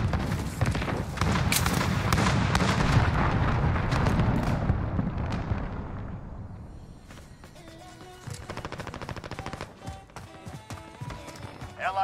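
A cruise missile strike in a video game: a long, loud rumbling blast that slowly fades, followed by scattered debris clatter, distant gunfire cracks and a voice in the background.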